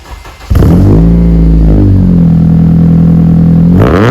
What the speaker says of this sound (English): This has a 3-inch exhaust, and I can fit my whole fist in it, and let me tell you, it's quite a loud car.